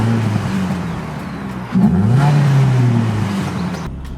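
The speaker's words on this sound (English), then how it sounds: "Let me just quickly start the engine and get the aircon on." A Ford Focus ST170 engine running with steady low droning and a brief rise in revs partway through, close and fairly loud with no talking.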